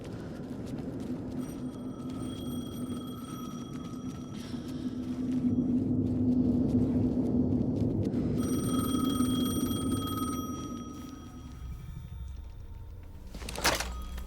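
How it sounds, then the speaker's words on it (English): In the video game Alan Wake 2, a telephone rings in two long bursts over a low, rumbling ambience, followed by a brief sharp knock. "The phone again."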